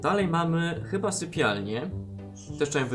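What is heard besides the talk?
No everyday noises stand out.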